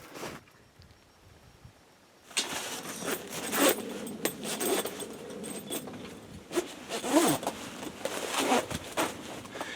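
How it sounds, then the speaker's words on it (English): A zipper on a Cascadia Vehicle Tents rooftop tent annex is drawn closed in quick, close rasping strokes with small pauses, starting after a brief quiet moment. "it's easier to zip it the rest of the way stepping inside of the rooftop tent"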